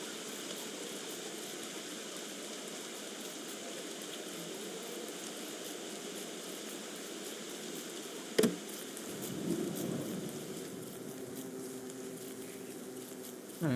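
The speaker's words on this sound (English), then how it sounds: "I like the rain" Steady rain patters in the video game Don't Starve Together, an even, hissing wash of drops that holds throughout, broken by a single sharp click and a brief swell near the end.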